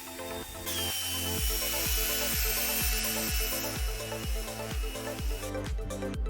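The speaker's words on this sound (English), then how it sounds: "The drill starts spinning the wheel like a simple motor." A power drill whirs as it spins a bicycle wheel, with a regular rhythmic thrum repeating about twice a second over a rough mechanical rush.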